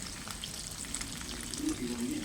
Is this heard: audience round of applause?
no